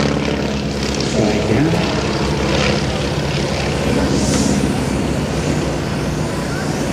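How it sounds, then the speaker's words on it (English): An aerobatic propeller plane's engine drones overhead at an air show, its pitch wavering as it sputters and surges back up in a restart, heard from a distance. "Sputter, sputter, sputter. There's the flaming restart."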